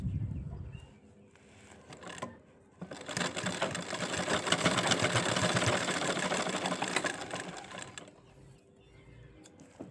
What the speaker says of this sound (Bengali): আস্তে ধীরে আস্তে আস্তে সব সেলাইগুলো কমপ্লিট করে নিচ্ছি